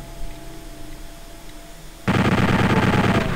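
After a quiet stretch, a chaingunner in Doom opens fire with a loud, sustained rapid-fire burst of gunshots that cuts in abruptly and stays dense and close until the end.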